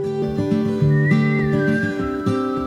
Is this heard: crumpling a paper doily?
no